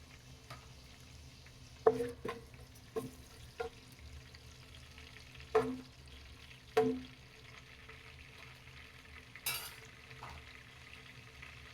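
Whole cinnamon, cardamom, cloves and bay leaf frying in hot oil for Dindigul-style jeera samba biryani, a faint low sizzle broken by a handful of sharp spoon clinks and taps against the pot.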